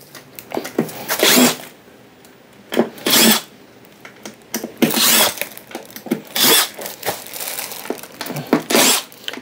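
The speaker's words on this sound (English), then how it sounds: "taking the side screws off, these ones right here, and pull this piece off" Power tool backing out the side screws of a DIY solar powerwall casing, with five or six loud whirring bursts of one to two seconds each, separated by short quiet pauses.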